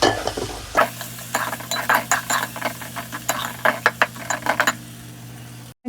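Dried fish curry being sautéed in a pan with chilli powder, salt and spices, a spoon scraping and knocking repeatedly against the pot over a steady sizzle, with no talk.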